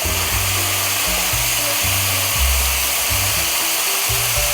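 Hibachi ingredients with garlic and Italian seasoning cook in a hot pan, producing a steady loud sizzle and hiss over a low droning hum, with no one speaking.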